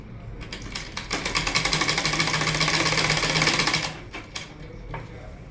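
Sewing machine stitching the side seam of a kurti, a fast steady mechanical needle rattle running for about three seconds before stopping, followed by a few faint handling sounds.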